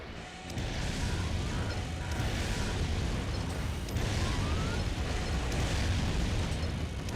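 Dense, continuous explosions and rumbling blasts from mech combat in the PS2 game Armored Core 3, loud and sustained throughout with repeated bursts and no talking.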